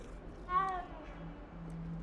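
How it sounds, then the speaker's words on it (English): A cat in a wizarding video game gives a single clear meow, with faint low purring underneath and quiet ambient game sound around it. "Another kitty. I must pet all the kitties."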